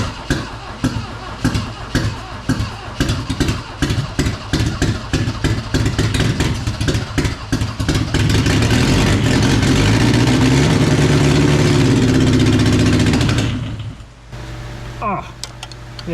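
A 1974 Toyota Celica engine with a freshly sealed carburetor float sputters with uneven firing pulses, then settles into a steady loud idle before cutting to quieter mechanical sounds, with a voice heard over it.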